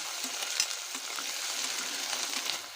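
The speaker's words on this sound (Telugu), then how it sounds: "అల్లం వెల్లుల్లి పేస్ట్ కూడా వేస్తున్నా అండి ఇది కూడా బాగా అంతా పచ్చివాసన పోయేదాకా వేయించుకోవాలి" Ginger garlic paste frying in oil in a pan gives a dense, steady sizzle, with faint stirring scrapes and taps over it, and no voices.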